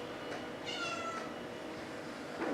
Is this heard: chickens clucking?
no